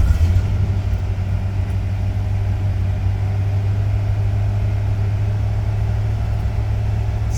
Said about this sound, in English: Still idling high.